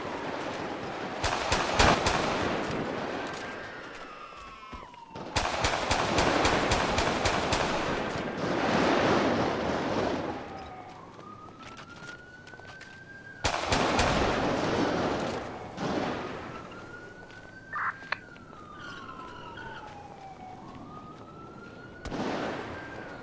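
Bursts of automatic gunfire crack in a shootout with police in the video game Marbella Vice 2, with wailing police sirens sweeping between volleys, loud and repeated.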